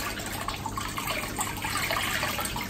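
Coral food slurry is poured into the water flow of a reef aquarium, giving a continuous splashing, gushing pour. It is moderately close with a steady pump hum beneath it, and there is no talk.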